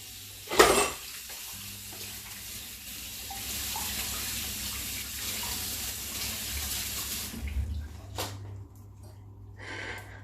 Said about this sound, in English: I'm going to keep this aside, wash my hands.